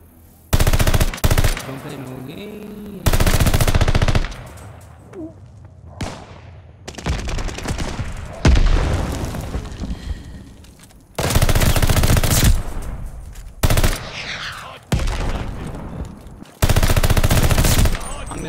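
Automaton gunfire in the video game Call of Duty Vanguard comes as repeated loud bursts of rapid automatic shots, separated by short pauses and quieter stretches of game sound.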